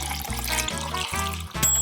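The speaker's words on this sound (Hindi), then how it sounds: "ये तो सिर्फ पानी है।" Water pours or trickles in a loud, close, bubbling stream, broken into short repeated bursts with brief gaps between them and a sharper splash near the end.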